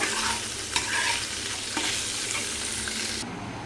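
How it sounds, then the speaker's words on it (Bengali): Paratha and paneer frying in a pan, a close, steady sizzle with a few scraping stirs and light knocks, ending abruptly. "আগে পরোটাটা ভেজে নেব, পনিরটা হালকা করে ভেজে নেব।"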